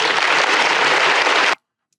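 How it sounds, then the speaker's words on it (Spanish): Unanimous applause from a crowd, loud dense clapping that carries on evenly for about a second and a half, then cuts off abruptly into silence. "Y aplauso unánime."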